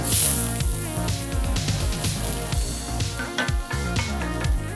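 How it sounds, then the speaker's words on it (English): Onion going into hot oil in a pan, giving a continuous close sizzle and spitting hiss with crackling bursts throughout. "I'm going to start off by getting the onion into the pan."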